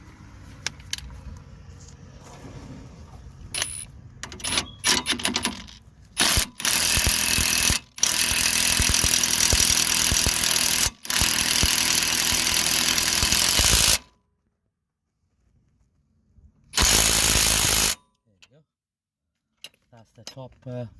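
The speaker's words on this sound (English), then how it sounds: "So just gonna torque them up now with my impact wrench." Impact wrench torquing the nuts on a Volkswagen Golf anti-roll bar link, loud sustained rattling bursts of several seconds each, separated by silences and clinking metal handling sounds.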